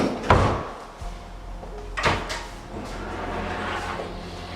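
A sliding pull-out fitting in a modular kitchen cabinet moves with a couple of soft thuds and rolling clunks, close by and moderately loud, over faint room noise.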